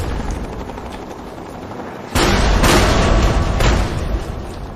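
Gunfire and a grenade blast in the game Fallout 3: a steady rumble of battle noise, then a loud burst of heavy gunfire and explosive crackle kicks in halfway and carries on densely to the end.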